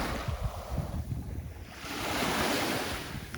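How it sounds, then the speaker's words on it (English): Waves washing onto the main beach of a town on a sunny day, a continuous surf hiss that swells toward the end, with low wind rumble buffeting the microphone. "This is what's called the main beach."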